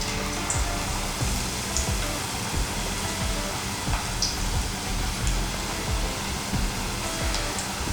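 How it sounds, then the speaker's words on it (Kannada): Paneer pieces deep-frying in hot oil for a Bengali-style paneer snack, giving a steady, dense sizzle and crackle that runs unbroken and fairly loud throughout, with no talk over it. "ಸೊ ಇದನ್ನು ಅದೇ ಥರನೇ ಎಣ್ಣೆಯಲ್ಲಿ ಬಿಟ್ಬಿಟ್ಟು ಗೋಲ್ಡನ್ ಕಲರ್ ಆಗೋವರೆಗೂ ಫ್ರೈ ಮಾಡ್ಕೋಬೇಕಾಗಿರುತ್ತೆ"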